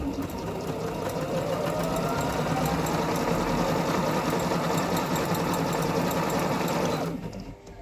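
A Singer MINX2660 electric sewing machine runs a steady stitch, with a close, even mechanical whir and rapid needle rattle that winds down and stops near the end.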